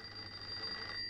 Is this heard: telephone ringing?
yes